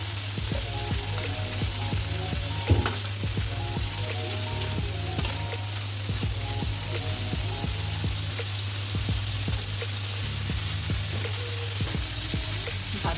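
Prawns frying in a pan for a Bengali chingri bhuna, a steady close sizzle throughout with scattered clicks and scrapes of stirring, no talk.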